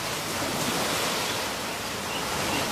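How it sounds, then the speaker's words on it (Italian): Ocean waves from the 2004 tsunami surge in a steady, dense roar of surf and rushing water, loud and close, with wind noise buffeting the microphone throughout and no pauses. "Però guarda le onde là, guardate le onde là."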